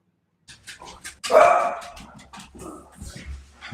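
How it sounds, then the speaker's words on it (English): Several dogs bark excitedly at the postman, a burst of loud, overlapping barks and yips with some whimpering, close by indoors. "Postie came and the dogs were going off."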